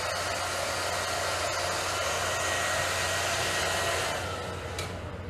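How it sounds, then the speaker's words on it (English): Hair dryer blowing steadily on a watercolor painting of poppies, a loud, continuous close whoosh that holds for about five seconds before easing slightly at the end. "I don't put the hairdryer close to the painting until it's mostly dry"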